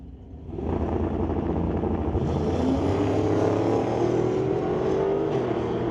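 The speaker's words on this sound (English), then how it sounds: "Johnson brings up the 72 Chevelle, racing against Daryl Tippy's Horizon Paint Chevy 2" Drag racing cars, a 1972 Chevelle and a Chevy II, engines roaring loudly and steadily at the strip, with a rising whine as they pull away and a continuous heavy drone underneath.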